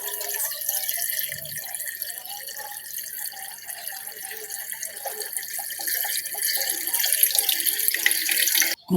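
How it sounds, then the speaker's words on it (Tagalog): Water pours steadily into a pressure cooker holding fish being cooked as sinardinas, a continuous close splashing stream that runs alone for several seconds and cuts off sharply at the end. "Lalagyan po natin siya ng konting tubig."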